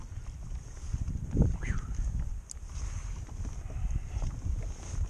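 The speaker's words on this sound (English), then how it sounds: "that wind is brisk, man." Brisk winter wind buffets a fishing boat out after tautog, a steady rushing roar with microphone gusts and low rumble throughout, one brief sharper knock midway.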